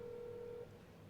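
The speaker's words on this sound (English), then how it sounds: "I think I got the one and only Sterling Doty on the phone" A single steady telephone dial tone or call tone plays on a phone line for just over half a second, then cuts off, leaving faint line hiss.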